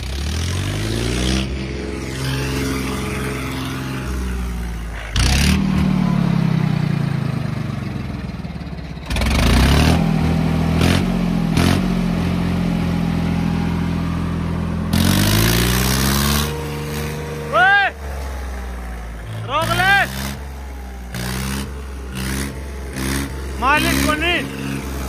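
A Swaraj tractor engine revs and labours hard while working a field, rising and falling in bursts with rattling mechanical noise, loud and close, with people shouting over it at times.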